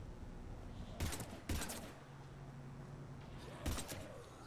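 Gunfire in the video game Mass Effect 3, three sharp separate shots over a low steady background hum, fairly close and with no talk.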